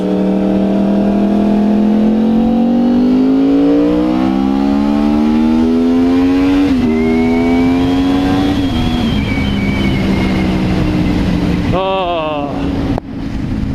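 A motorcycle ridden around the block revs loudly and close, its engine pitch rising smoothly through long pulls with a gear shift midway, then a sharp burst of revving near the end amid wind noise.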